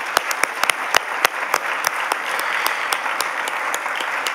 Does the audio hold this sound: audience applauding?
yes